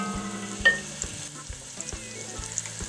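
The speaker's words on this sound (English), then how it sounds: "I'm going to brown my meat in the onion and olive oil on all" Meat browning in onion and olive oil in a pot for a traditional pot roast, a steady close sizzle and frying hiss with a few soft stirring knocks and clinks against the pan.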